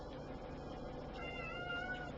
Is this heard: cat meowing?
yes